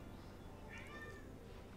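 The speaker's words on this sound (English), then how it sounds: "There's my cat. I don't know if you can hear her. She's meowing." A house cat gives a single short meow in the middle, faint and somewhat distant, over a quiet indoor background hum; no one speaks.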